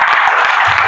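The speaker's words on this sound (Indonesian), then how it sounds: "Kita berikan aplaus dulu pertanyaan." Applause from an audience at a university teaching session, a dense, steady patter of many hands clapping close by with no pause.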